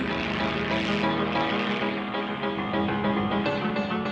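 A little toy plane flies and climbs through the air, its propeller engine droning loud and steady with a rich buzzing tone throughout, no talk over it.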